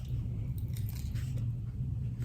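Crunchy Jollibee peach mango pie being bitten and chewed close up, a steady run of crisp crunching and mouth sounds with no talking over it.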